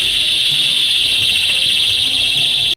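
Loud alarms set off inside a church give a piercing, steady high-pitched electronic tone that warbles slightly and runs continuously until it stops abruptly.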